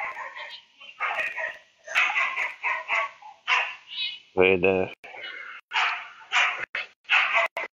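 Dogs give a brief bark or yelp, loud and close, in the middle of steady instructional talking.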